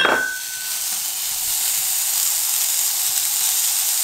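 Chopped onions hit hot sunflower oil in a small pan with a sharp burst, settling into a steady, bright sizzle that carries on alone and close.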